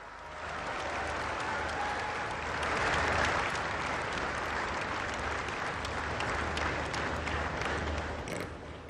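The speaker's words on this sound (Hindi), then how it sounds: "आइए जोरदार तालियों के साथ आमंत्रित करते हैं" Audience applause welcoming Prime Minister Narendra Modi to the stage at an event in Gujarat, a broad sustained wave of clapping from a large crowd that swells slightly midway and holds steady throughout.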